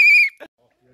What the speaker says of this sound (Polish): Od razu gwizdek.